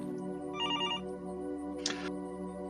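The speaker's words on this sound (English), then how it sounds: "A phone rings, echoing through the empty house." A telephone gives one brief trilling ring in an empty house over a low sustained musical drone, followed a moment later by a short bright click or clatter.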